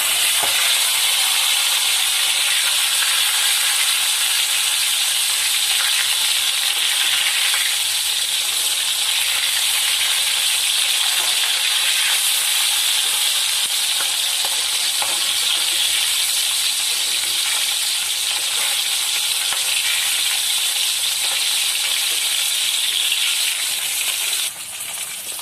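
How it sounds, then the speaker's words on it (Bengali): Pangas fish fried in hot mustard oil, a steady close sizzle with dense crackling that runs unbroken for the whole stretch, a brief dip near the end as the pieces are turned, no talking. "মাছটা উল্টিয়ে দিচ্ছি"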